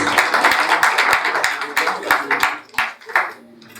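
Audience applause at a Turkish stage event where a couple is invited up for a poetry reading and plaque presentation, dense clapping with scattered sharper claps, fading near the end as voices come in.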